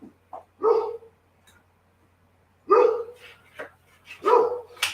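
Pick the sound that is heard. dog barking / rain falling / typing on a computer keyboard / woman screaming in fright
dog barking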